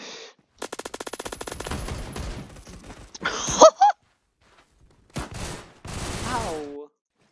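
Gunfire in the video game Phantom Forces: a rapid automatic burst, then scattered shots and short bursts with gaps between them, close and sharp, with a gasping voice mixed in.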